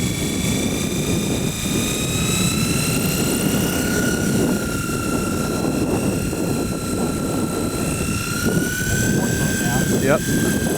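An SX2 rotorcraft spools up to hover on a windy day, its rotor producing a loud steady whine with rising tones over heavy wind buffeting, and the pitch climbs slightly toward the end.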